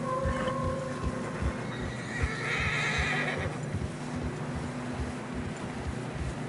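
Horses in the Red Dead Redemption II video game, a clear neigh early on, then steady clip-clop of hooves plodding through fresh snow on a narrow path, alone with no talk.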